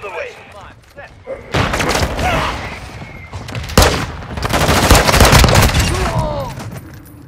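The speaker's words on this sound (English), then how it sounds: "Mortar strike on the way." Mortar strike explosions in Call of Duty: Modern Warfare II, heavy booms and thuds tangled with rapid gunfire in a loud, sustained battle din, with game voices heard over the chaos.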